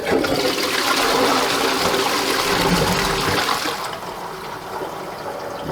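A wall-hung toilet in a newly built workshop flushes with a loud, sustained rush of water that tapers to a softer trickle and refill near the end.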